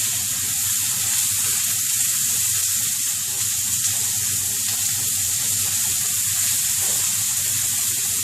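Chopped onion frying in oil makes a dense, steady sizzle close up, even and unbroken throughout, with no talking.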